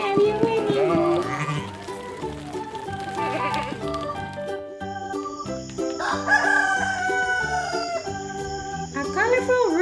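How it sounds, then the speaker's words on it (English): A Fisher-Price barn toy plays a recorded rooster crowing, a loud, drawn-out cock-a-doodle-doo mixed with toy music and sheep-like bleats, close and clear, with a speaking voice around it. "A colorful rooster."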